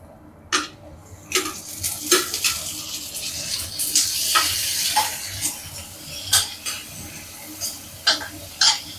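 Tomatoes added to softened onions clatter and sizzle in a pan while a spoon scrapes and stirs, with repeated sharp metal knocks over a steady hiss, close and fairly loud.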